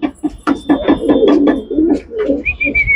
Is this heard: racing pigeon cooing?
yes